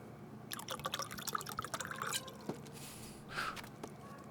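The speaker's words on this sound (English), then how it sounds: "Hey, pour me some more." Drink poured into a glass: soft, close splashing and liquid glugs in quick irregular bursts, then a brief pause and one more pour, quiet with no talking over it.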